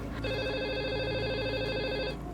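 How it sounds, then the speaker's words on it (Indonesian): Telephone ringing in a home in a drama scene: a steady electronic ring with bright sustained tones over a low room hum, lasting about two seconds, moderately quiet, no talk. "Mana telepon tuh?"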